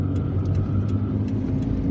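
A car engine hums and rumbles steadily while overtaking another car on a hilly road in Algiers, with a mid-range drone and faint passing swells, close and continuous with no talk.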